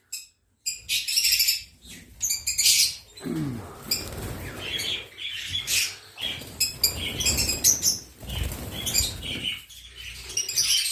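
Lively chirps and squawks from a group of green lovebirds in an aviary, bursting on and off with brief pauses, close by and fairly loud, with occasional wing flutters.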